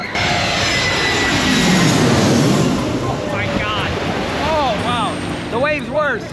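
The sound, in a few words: jet airplane flying in low over the water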